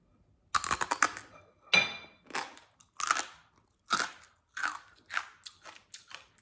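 A series of sharp, crisp crunches from biting and chewing thin oil-free baked lotus chips, about eight bursts in a steady rhythm, close and clear with no talking.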